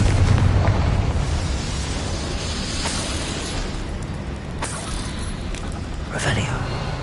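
Confringo blasting spell in a Harry Potter video game, a booming burst over a dense, steady roar of game noise, followed by a few sharper pops; a voice speaks over it.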